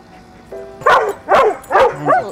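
A Belgian Malinois barks three times in quick succession, close and loud, the sharp barks spaced evenly apart with a faint whine between them.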